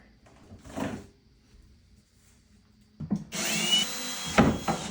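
A power drill or driver whirs loudly for about a second and a half near the end, backing out the hardware on kitchen booth doors, after a few faint knocks and a quiet pause.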